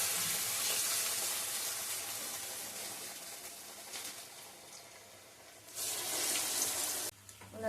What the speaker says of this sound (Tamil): இப்போ நம்ம வடை தட்டி எண்ணெயில போட்டுக்கலாம்